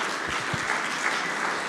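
Steady applause from an audience at a programming contest closing ceremony, a dense wash of clapping with a few nearer claps standing out at the start.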